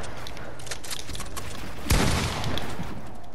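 Infantry rifle gunfire in a video game rings out as a few sharp shots over busy game background noise, with one loud blast near the middle.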